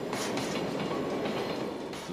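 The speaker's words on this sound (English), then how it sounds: "This Belgian Railways Class 11 is heading a rake of Dutch coaches on the hourly intercity service" A Belgian Railways Class 11 locomotive hauling a rake of Dutch intercity coaches rumbles past steadily, with loud continuous wheel noise and rhythmic clickety-clack over the rail joints.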